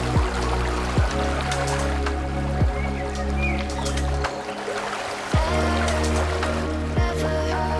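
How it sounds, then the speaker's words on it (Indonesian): River water flowing near Batu Manrusu waterfall in Parangloe, Gowa, a steady close rush and trickle with a few soft splashes and low thumps, no voices. "di dalam sebuah sungai yang mengalir"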